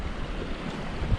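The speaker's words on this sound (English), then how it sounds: "But tough conditions, really windy." Steady, blustery wind buffets the microphone at a reservoir, with low rumbling gusts and a broad rushing noise throughout, briefly swelling louder near the end.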